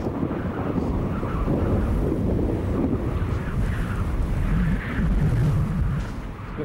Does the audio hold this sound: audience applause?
no